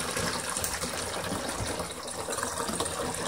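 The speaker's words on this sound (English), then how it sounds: "take this bucket here and fill it with water and put that into the dishwasher" A bucket of water is poured into a dishwasher that has a clogged drain line, giving a steady, loud rushing gush that fills the whole three seconds with no talking.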